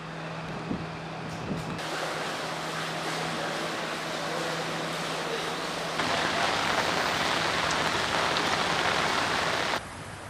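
Heavy rain falls on the flooded city of Kandy in Sri Lanka, a loud, steady wash of downpour with a low hum early on, growing denser in the later part before easing slightly.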